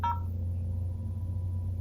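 Brief telephone tones sound at the start of a call transfer to an operator at a police department line, followed by a steady low hum on the line.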